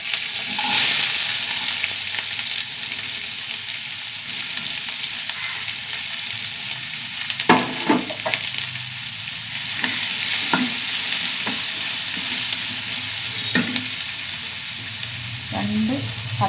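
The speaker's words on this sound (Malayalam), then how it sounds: "പച്ചമുളക് ഉള്ളി നന്നായി വഴണ്ട് വരട്ടെ" Green chillies, small onions, dried red chillies and curry leaves sauté in a pan with a continuous sizzle, broken by several scraping stirs of a spatula in the second half, with light speech now and then.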